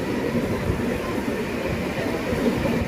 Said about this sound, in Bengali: ট্রেনটা চলে যাবে ঝাঁঝার দিকে